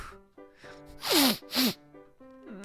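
Two sharp sneezes in a holiday visual novel game, each a loud burst close together, heard over soft, sustained background music.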